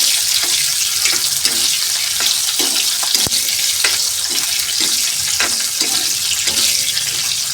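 Capsicum fries in hot oil for a French beans sabzi, giving a continuous close, bright sizzle broken by regular soft stirring scrapes and one sharp click, with no talking.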